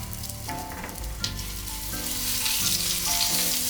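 Cauliflower pieces fry and caramelize in a hot pan while being stirred, giving a steady, dense sizzle with a few soft stirring knocks, close and continuous with no talking.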